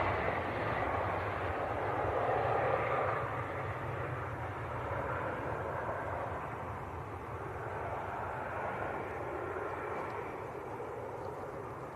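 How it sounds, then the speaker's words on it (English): An Embraer E190 airliner at Leeds Bradford Airport rumbles steadily, its engines a broad mid-distance roar that swells slightly, then stays even, with no talk over it. "Embraer E190."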